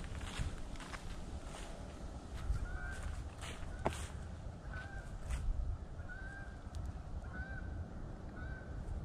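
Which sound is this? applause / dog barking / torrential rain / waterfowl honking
waterfowl honking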